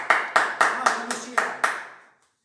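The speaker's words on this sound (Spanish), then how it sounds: "aplauso para Lucía" Seven slow, evenly spaced handclaps ring out for a student during an economics class, each sharp and reverberant, ending in a short decay and then silence.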